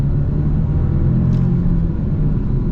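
A 2026 Genesis G70 2.5T turbo car accelerates with a steady, loud, close engine rumble and road drone that holds evenly throughout, with a faint brief whine partway through.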